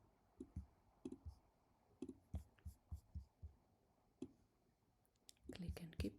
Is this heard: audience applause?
no